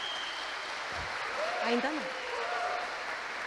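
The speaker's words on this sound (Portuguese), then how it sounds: "Então vamos bater palmas para esses papais animados." A church congregation applauds, a soft, steady patter of clapping sustained throughout while a voice speaks briefly over it.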